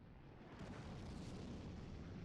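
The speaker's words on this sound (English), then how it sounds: "Artillery just took out that Tier 9 American medium tank, the T-54 E1" An artillery shell exploding in World of Tanks, striking a Tier 9 American T-54 E1 medium tank, a deep rumbling blast that swells after a short lull and rolls on, heavy and low.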